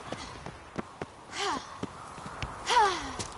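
Ciri from The Witcher 3 breathes hard while running, with a few short sharp gasps and sighing exhales over soft rhythmic footfalls, close and fairly quiet.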